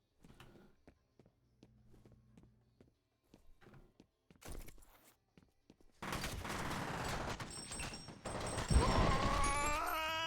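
Heavy gunfire erupts in the F.E.A.R. Perseus Mandate video game after a few seconds of quiet footsteps and thuds, becoming a dense, loud, sustained fusillade of rapid shots with crashes and ringing debris.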